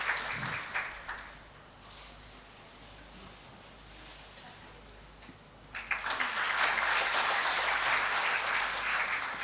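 Audience applause at a university event, a short burst of clapping that fades to a low murmur, then swells again into loud, sustained clapping from a large crowd.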